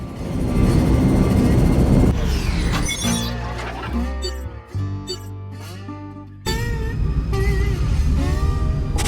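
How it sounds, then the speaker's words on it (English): Spaceship engines push to full power in the space game Rebel Galaxy, a loud broadband roar with harsh crackling that drops into tonal electronic sweeps and hums midway, then surges back to the dense roar; a voice speaks over it. "Engines at maximum."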